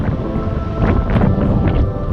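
Strong wind buffets the microphone in gusty rumbling bursts, a loud continuous roar with no voices.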